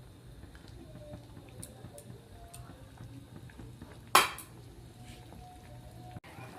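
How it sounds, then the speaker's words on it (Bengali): Stirring a pot of sour dish made with sesame paste: quiet scraping and faint knocks of a spoon against the pot, with one sharp metallic clink partway through. "একটু নেড়ে নিচ্ছি, একটু ফুটে গেলেই নামিয়ে নেব।"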